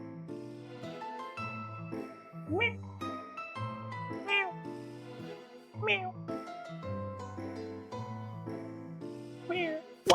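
Cats meow repeatedly in the puzzle game Thought Experiment Simulator, several rising cries breaking out at intervals over a bright sustained musical background, close and clear.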